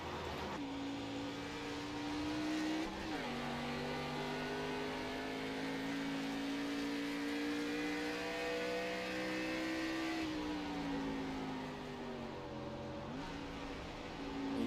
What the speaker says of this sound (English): You hear him downshift going into the turn.